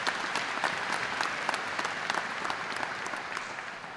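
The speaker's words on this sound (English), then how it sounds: "Please give her a round of applause." An audience at a spring 2019 commencement ceremony claps steadily, a dense, fairly distant wash of applause that holds for several seconds without voices.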